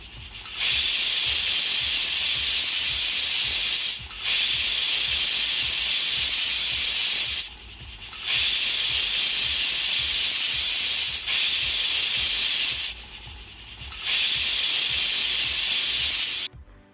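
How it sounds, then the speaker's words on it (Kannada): Pressure cooker holding horse gram, water and salt lets out loud, steady hissing steam in long sustained bursts, three or four of them, with short gaps between. "ಕುಕ್ಕರ್ ಮುಚ್ಚಳ ಮುಚ್ಚಿ ಈಗ 5 ವಿಜಲ್ ಬರೆಸಿ."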